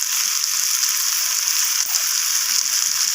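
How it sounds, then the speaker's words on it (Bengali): Steady, bright sizzling of vegetables sautéing in a pan with red chili powder and cumin for a Malabar spinach and small shrimp chorchori, close and constant, with faint stirring scrapes and no talking. "তো সমস্ত কিছু মশলার সাথে আমি সবজিগুলোকে নাড়াচাড়া করে কষিয়ে নিচ্ছি।"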